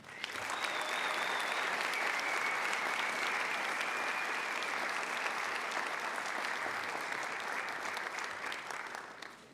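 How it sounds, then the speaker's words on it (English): Loud, sustained audience applause at a campus Ivy Day ceremony greets a runner-up, a dense even roar of many clapping hands holding steady before tapering at the very end, with a faint whistle briefly audible. "Please give a loud round of applause for this year's female runner-up, McKenna Fisher"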